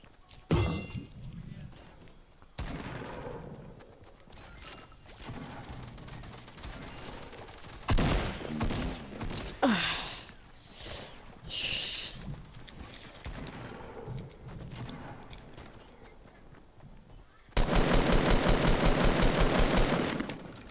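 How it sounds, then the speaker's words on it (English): Dense, overlapping gunfire from many players in the video game Fortnite, bursts of rapid shots and impacts rattling across the match and ending in a loud, continuous stretch of automatic fire, with faint voices underneath. "Why is everyone shooting me?"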